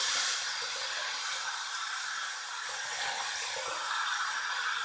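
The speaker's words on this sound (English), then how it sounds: "I'm going to be putting some hot water into my shaving bowl here" Hot water pours steadily into a shaving bowl, making a soft, continuous hissing splash that stays even and fairly quiet from start to finish, with no voices.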